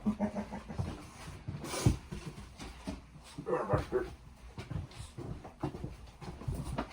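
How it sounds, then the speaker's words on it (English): A dog yelps, whimpers and pants in short irregular bursts close by, with scuffling and a few sharp louder cries, amid a chaotic indoor scuffle. "He's being mean to my fucking dog, and now he's biting my leg."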